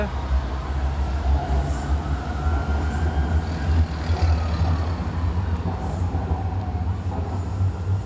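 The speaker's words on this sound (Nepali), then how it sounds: "ट्रेन गइरहेछ।" A train passing through a green suburban area in Malaysia, a continuous low rumble of wheels on rails with faint squeals, steady and moderately close for the whole stretch.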